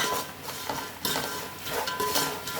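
Puffed rice being tossed into hot masala in a pan with the stove just switched off, a close, steady dry rustle and scrape of spoon against metal, with a few sharper clinks, no voices.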